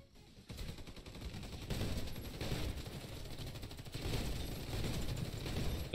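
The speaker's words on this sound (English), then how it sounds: "That fucking shotgun." Shotgun fire rattles through a video game match as a fairly quiet, continuous stream of rapid shots with no pauses, steady and busy throughout.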